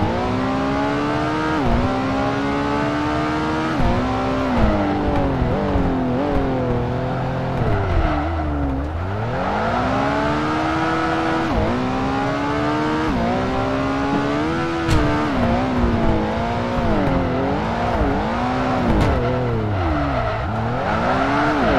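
A race car engine in the Xbox game Project Gotham Racing 2 revs repeatedly toward 10,000 RPM, its loud, steady whine rising and falling through gear changes for about twenty seconds, with tire squeal and no talk.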